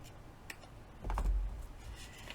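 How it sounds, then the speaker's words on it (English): Scissors make a single short snip through the end of a paper envelope, a quiet crisp cut in a still room. "I'm going to use my scissors, and I'm just going to take this end off"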